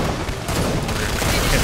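SWAT machine gun fire in Killing Floor 2, a loud continuous fusillade of rapid shots and booming impacts that thickens midway and keeps rolling to the end.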